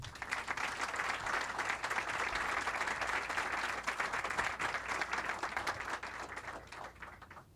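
An audience welcomes author Walter Stahr with sustained, dense applause that holds steady for about seven seconds before easing slightly at the end.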